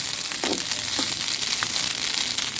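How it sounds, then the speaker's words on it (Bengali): Cooked rice being fried in a pan, a dense close sizzle with a few crackling pops and scraping sounds, steady and loud with no voices. "দেখেন আমার কত সুন্দর ভাত ভাজা হয়ে গেছে"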